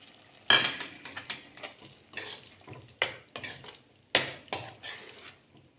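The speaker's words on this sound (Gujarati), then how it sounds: "આપણે એની અંદર નાખી દઈશું ટમેટાં" Tomatoes tipped into a pan of cooked spinach and eggplant curry, Kathiyawadi style, with a spoon stirring and scraping against the metal pan: about seven close, sharp clinking bursts at an uneven rhythm over a low background hiss, with no talking.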